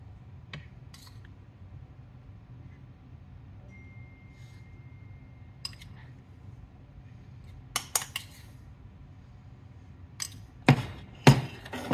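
Lion's mane mushroom crab cakes set onto a serving dish beside caprese salad: quiet room tone broken by scattered light clinks and taps of utensils on the plate, clustering into a few louder clatters near the end.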